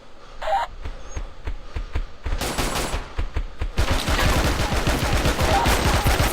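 Bursts of heavy gunfire crackle in the video game BeGone, starting with a short volley and building to sustained rapid shooting.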